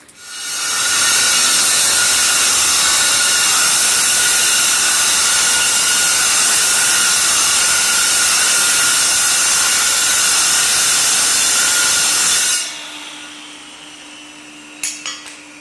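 An angle grinder cutting a stone monument: a loud, sustained high-pitched grinding whine that runs steadily, then cuts off abruptly, followed by a few light taps in a quieter room.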